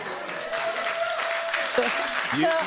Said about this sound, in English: You get applause for very little on this programme.